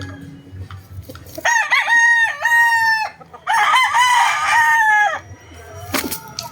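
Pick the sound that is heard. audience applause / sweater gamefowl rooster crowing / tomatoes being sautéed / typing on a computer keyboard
sweater gamefowl rooster crowing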